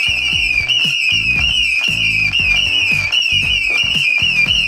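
An Agila Pyro firework rocket lets out a loud, sustained piercing whistle that wavers slightly in pitch, with rhythmic music playing underneath.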